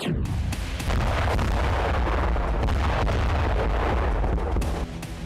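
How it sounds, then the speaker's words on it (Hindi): Russian strikes on the Kryvyi Rih airbase in Ukraine set off a dense, continuous barrage of heavy booms and rumbling blasts, loud and unbroken for several seconds before easing slightly at the end. "यहां पर रूसी सेना ने कुछ इस तरह से धमाके किए"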